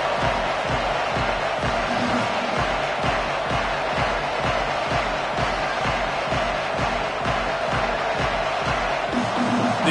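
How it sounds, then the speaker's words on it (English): Packed college football stadium crowd at a Florida Gators game, a loud continuous roar of cheering fans that holds steady throughout, with a rhythmic pulsing chant underneath and no clear speech on top. "This crowd bringing an ear-splitting welcome to their visitors."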